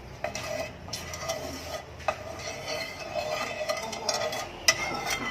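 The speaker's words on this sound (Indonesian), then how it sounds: "Api sedang aja, diaduk terus ya." Soft scraping and light clinks of a utensil stirring sauce in a pot over medium heat, steady and close, with occasional sharper taps against the rim.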